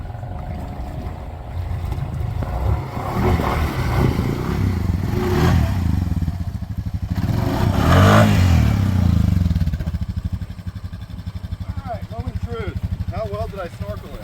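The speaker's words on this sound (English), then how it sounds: "It's idling very deep. The exhaust is probably, I don't know, 2 feet under." A Honda Foreman ATV idles steadily with its exhaust about two feet underwater, giving a continuous low rumble and burble that swells slightly midway. People talk over it near the end.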